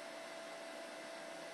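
A slow, struggling computer gives off a steady fan whir, a constant faint airy hiss with a thin tonal hum, alone with no talk.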